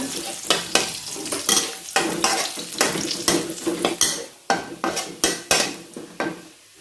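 Garlic frying in hot oil, a loud close sizzle broken by rhythmic stirring strokes and metallic scrapes of a utensil against the pan, in regular bursts.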